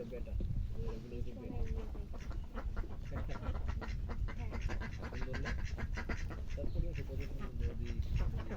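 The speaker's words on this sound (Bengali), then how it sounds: "এই হাঁসগুলো সামনে আসেন না" Ducks quacking close by around a boat, a steady run of nasal calls over a low rumble, with voices talking throughout.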